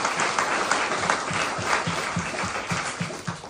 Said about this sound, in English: So, a huge applause to our team.